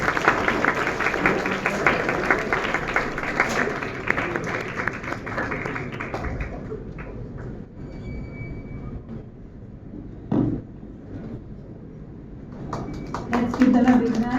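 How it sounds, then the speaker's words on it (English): Audience applause at a school commerce quiz, dense clapping for about six seconds, then thinning to scattered claps and a few knocks before picking up briefly again at the end. "Give them a huge round of applause."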